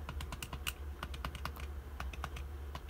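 The buttons of a PocketGo handheld game emulator are pressed in quick, irregular bursts, each giving a sharp, close plastic click over a faint background hum.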